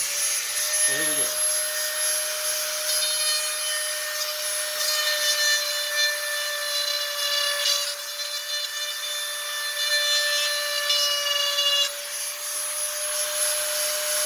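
A Dremel rotary tool grinds out cracks on a 1972 Ford LTD with a 400 big block, giving a steady high-pitched whine with a rough abrasive rasp that holds for the whole stretch, close and loud, with no talk over it.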